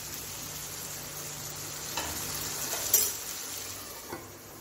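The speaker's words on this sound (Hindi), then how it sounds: "लगभग 10 से 15 मिनट तक हमें गैस पे इसे भूनते रहना होगा" Chicken biryani fries on a gas stove over medium heat, a soft continuous sizzle with a few scraping stirs and metallic clinks of a spoon against the pot.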